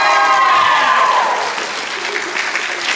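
Audience applause and cheering for kids after a high school Grease hand jive dance performance, a loud dense burst that eases slightly but carries on steadily throughout.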